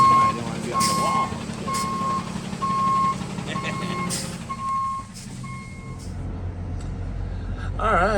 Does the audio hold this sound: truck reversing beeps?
yes